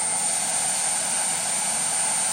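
A Starwood Lama RC helicopter's turbine engine runs at speed, a loud, constant high-pitched jet whine with a piercing steady tone and airy rush, heard alone and unbroken.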